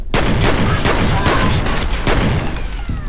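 Loud, dense burst of video game gunfire and explosive booms in the shooter F.E.A.R., with rapid overlapping shots and blasts filling the whole stretch, ending with a brief high ringing tone.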